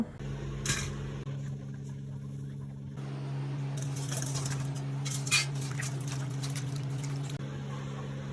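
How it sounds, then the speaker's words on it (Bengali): Cut, slit pointed gourds are washed by hand in water, with splashing and sloshing in bursts over a low steady hum, quiet at first and busier in the second half. "পটলগুলোকে এইভাবে কেটে নিয়েছি তারপর মাঝখান দিয়ে চিড়ে দিয়ে নিয়েছি এবার ধুয়ে নেব"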